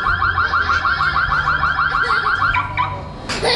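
A car-style alarm sounds at a live magic show for children at a festival, a loud, rapidly warbling electronic tone that repeats steadily with no pauses and then cuts off near the end.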